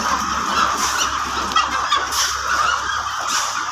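Poultry hens calling steadily at close range, a busy overlapping clucking chorus with no speech.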